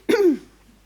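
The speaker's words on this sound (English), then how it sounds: "Sorry, this annoying cough." A single short, close cough from a person giving a lecture, a harsh throaty burst that fades quickly into quiet.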